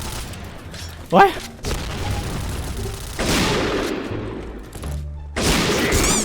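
Rapid bursts of gunfire in the online shooter Point Blank, played on a Thai server, come in dense clustered volleys with mechanical clicks between them, loud and near, and a voice speaks at times over the shooting.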